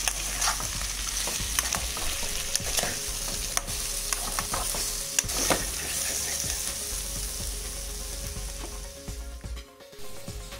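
Chopped pumpkin frying in a pan for a Bengali pui chingri chochhori, a continuous close sizzle broken by frequent stirring scrapes and clicks, easing toward the end.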